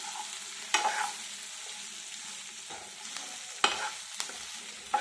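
Potato and brinjal pieces frying slowly over a low flame, a steady soft sizzle with a few sharp stirring clinks and scrapes of a spoon against the pan.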